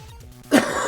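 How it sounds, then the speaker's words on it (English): A single harsh cough or throat-clearing burst erupts halfway through after quiet background noise, loud and close. "I can feel a bad coughing fit"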